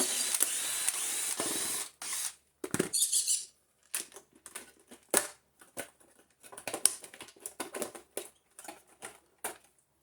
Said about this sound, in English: we're going to have to take all of the screws out of the whole thing